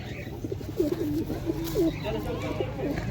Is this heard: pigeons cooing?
yes